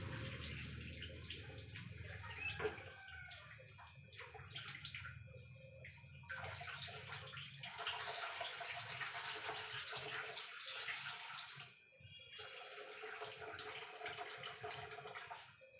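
Water boils in a pot with a steady, dense bubbling hiss and rush that stays loud and close throughout, dipping briefly near the end.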